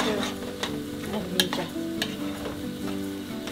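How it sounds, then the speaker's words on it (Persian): Eggs frying in a pan with solid fat while being stirred, for a Gilani onion and egg dish, give a steady close sizzle broken by scraping spoon strokes and a few sharp clicks. "باید همش بزنن تا تخم مرغ ها سفت شن"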